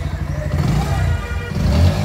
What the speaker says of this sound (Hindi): बाइक का स्टार्टर सुनो।